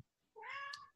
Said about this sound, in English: my cat's annoying me.